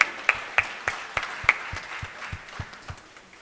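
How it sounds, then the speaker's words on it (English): A modest crowd applauding the PS at a women's business incubation graduation ceremony, a small group clapping with sharp, evenly spaced claps in a fairly reverberant hall. "Can we give him a clap"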